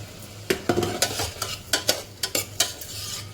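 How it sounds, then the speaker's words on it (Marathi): Curry leaves and onion frying in hot oil in a pan on high heat, a continuous close sizzle with a quick run of about a dozen sharp scraping and tapping stirs of a spoon against the metal. "कढीपत्ता उडतो ना तेलामधून, तेल उडतं. थोडंसं परतून घ्यायचं."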